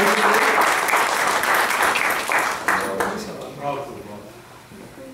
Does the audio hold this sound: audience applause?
yes